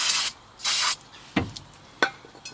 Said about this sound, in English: brake cleaner, spray around your piston